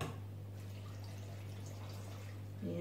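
A glass of water poured over onions and vegetables in a pan for Pangasinan-style pakbet, a soft continuous splashing pour over a steady low hum, close by, with no voices.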